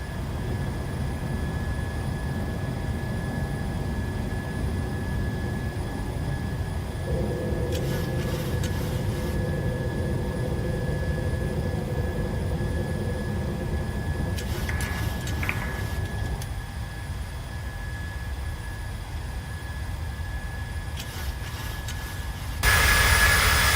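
Simulated PMDG 737-600 jet engines climbing after takeoff in Microsoft Flight Simulator, a steady, even roar that holds throughout, with a few faint clicks over it and a louder swell at the very end.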